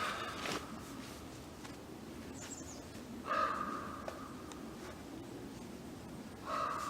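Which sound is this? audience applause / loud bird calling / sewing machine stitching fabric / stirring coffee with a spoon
loud bird calling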